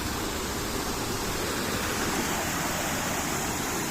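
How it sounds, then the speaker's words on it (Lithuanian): A waterfall in Kenya roars as a steady, dense wash of rushing water, constant and close, with no pauses or voices over the continuous spray. "Va ir pirmasis krioklys."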